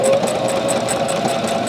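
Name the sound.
sewing machine stitching down the middle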